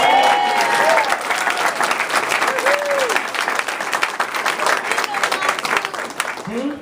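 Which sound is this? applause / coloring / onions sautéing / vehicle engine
applause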